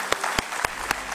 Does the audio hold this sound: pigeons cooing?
no